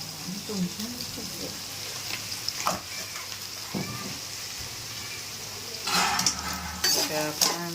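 A mango pickle mixture fried and stirred in a pan at home, soft sizzling with scattered spoon scrapes and a louder burst of frying near the end, faint voices in the background.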